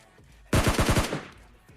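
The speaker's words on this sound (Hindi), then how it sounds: "मैं इस पे फायर भी करता हूँ" A short automatic gunfire burst in PUBG Mobile Lite, about six rapid loud shots over roughly half a second, ringing out alone with a brief decaying tail.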